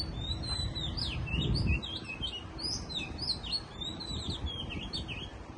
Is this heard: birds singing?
yes